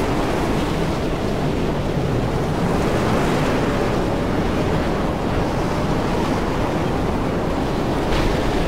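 Loud, roaring storm wind in the video game Mad Max blusters continuously, with a surf-like rushing texture and no voices.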